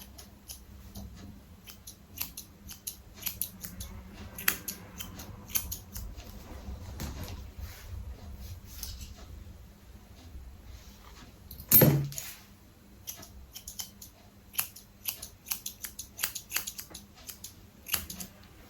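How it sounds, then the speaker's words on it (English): Scattered sharp snips and clicks of scissors trimming facial hair, close up, with a louder brief rustle near the middle against a quiet background. "I can use my scissors this way to match up the other side"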